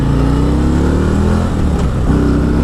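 A 2025 Harley-Davidson Road Glide motorcycle accelerates hard in sport mode, its engine loud and close with a steady rising rumble and a brief gear-change dip partway through.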